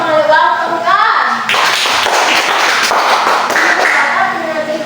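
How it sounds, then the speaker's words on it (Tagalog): A class of children in a school lesson gives a group round of clapping. A voice is heard at the start, then the rapid, close, hard hand claps take over for the rest. "Bigyan natin ng 10 palakpak ang pangalawang pangkat."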